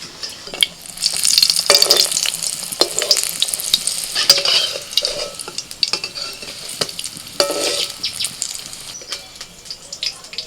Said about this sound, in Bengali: তেল গরম হয়ে গেছে নিন একটা করে ভাজে আস্তে আস্তে একটা একটাই ভাজতে হবে